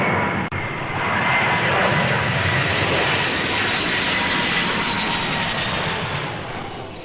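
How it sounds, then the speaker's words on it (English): A jet airliner applies climb thrust after takeoff, producing a loud, broad, continuous engine roar heard close and alone that slowly eases near the end. "we'll slowly apply climb thrust and accelerate to our en route climb speed"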